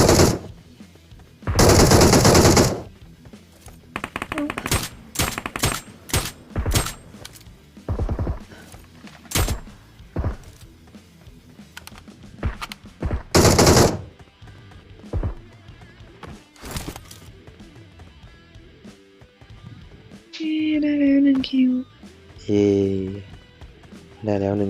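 Rapid bursts of Uzi submachine gun fire in PUBG Mobile ring out in short and long volleys amid game sound effects, with excited voices talking over the action.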